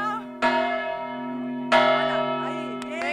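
A church bell rung by hand in Granada strikes twice, each loud clang ringing out with a long, sustained hum that hangs between strokes, close by with no talking over it.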